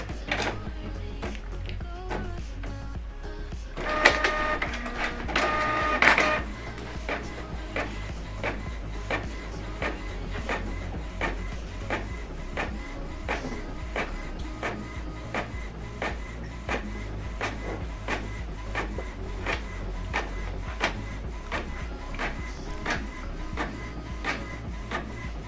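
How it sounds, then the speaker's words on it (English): A printer runs a double-sided job sent from a laptop, giving a rapid train of mechanical clicks and ticks with a brief louder whirring burst near the start, then steady rhythmic feeding and printing noise. "Now this document now is going to print out here"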